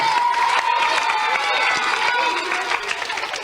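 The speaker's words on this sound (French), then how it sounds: "Je crois qu'on peut les applaudir." A TV studio audience applauds and cheers for children on the French show Disney Club on TF1 in 1991. The sound is a steady, dense wash of clapping and shouting voices that lasts the whole short stretch.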